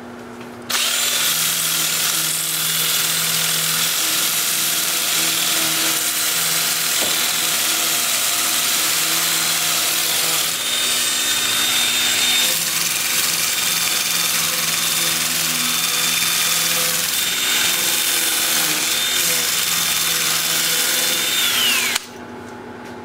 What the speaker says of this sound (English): I'll switch to my 2-inch disc starting at 80 grit, and I'll sand up all the turn parts on the bottom